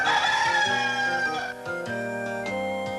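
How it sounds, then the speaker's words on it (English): A rooster crowing in a barnyard-themed game, one long, loud, drawn-out crow with a clear harmonic call that breaks into shorter stepped notes, close and alone with no talking. "It's hard to miss Ricky Rooster's crowing"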